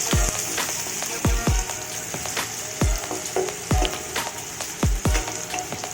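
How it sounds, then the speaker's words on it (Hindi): Onions and cumin seeds frying in oil in a pan, a steady close sizzle broken by sharp irregular pops and crackles, with no talking. "गोल्डन ब्राउन होने तक भूनेंगे।"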